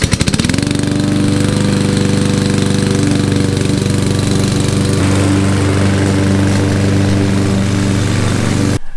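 A Toro Super Recycler premium consumer lawn mower runs close and loud at a steady drone, its engine note shifting slightly midway, with no talk.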